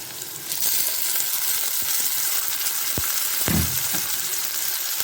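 Frying oil sizzles steadily in a pan, then ground tomato paste is dropped in with a thud and a louder splattering hiss that settles back into an even sizzle.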